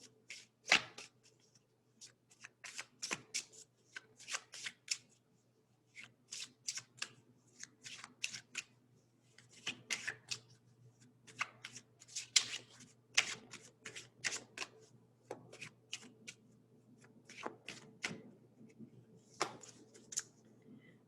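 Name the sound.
shuffling Lenormand cards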